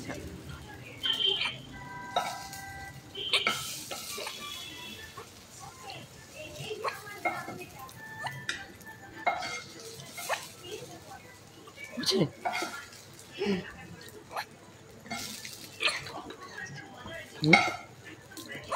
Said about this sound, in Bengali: এবার এর মধ্যে আমি আলুটা ঠিক বাটিতে তুলে নিচ্ছি